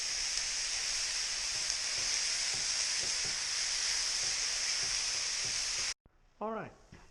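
Pheasant meat frying in a pot for white bean chili gives a loud, continuous sizzle with faint stirring scrapes, then cuts off abruptly near the end before a short burst of voice.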